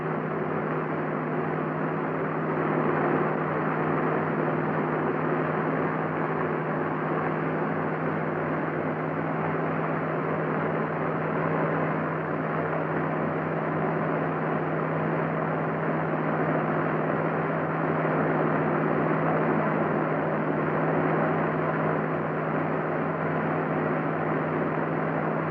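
Republic P-47 Thunderbolt fighter aircraft on the runway, a steady loud radial engine drone with a constant low hum and broadband roar, holding even throughout without voices.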